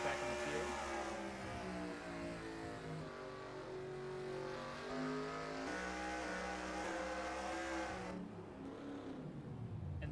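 Race cars lapping Phoenix in a racing video game, a steady loud engine drone with shifting revs and pitch as cars pass, continuous for the whole stretch before easing off near the end.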